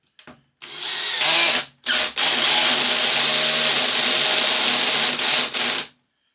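A cordless drill whines at high speed in several bursts, stopping and restarting, with a steady motor hum and brief pauses between runs, at increasing clutch settings.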